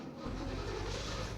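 A new car engine in the video game The Long Drive hums and revs steadily at close range, a continuous mid-pitched drone with no talking.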